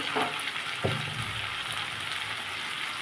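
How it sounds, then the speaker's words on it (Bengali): Watermelon rind curry with ginger paste, cumin and chilli powder frying in a pan, a soft, steady sizzle with a couple of brief stirring scrapes near the start and no talking. "পরিমাণ মতো হলুদ দিয়ে এটাকে আমি ভালো করে একটু কষবো।"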